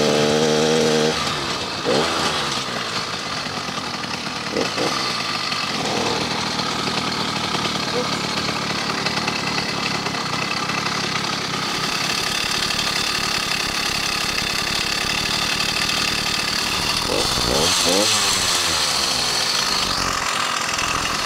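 An 80cc motorized bicycle engine with a carburetor needing adjustment runs continuously with a buzzing, raspy two-stroke drone that holds steady for the whole stretch, with occasional revving swells and people talking over it.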